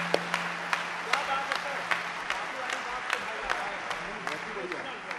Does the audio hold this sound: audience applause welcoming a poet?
yes